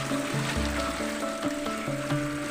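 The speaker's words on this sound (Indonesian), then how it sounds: "Kita lihat air mengalir dari sumber tetek, daripada Dewi Laksmi mengalir mancur ke bawah" Water from the Sumber Tetek spring fountain pours down at the Dewi Laksmi temple site, making a steady, moderate splash and trickle with no talking.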